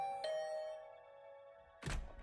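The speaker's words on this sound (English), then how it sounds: "I just returned to my room when the doorbell rang." Doorbell chime in the video game The Hundred Line, a clear two-tone ding-dong ringing out and fading, followed by a dull thunk.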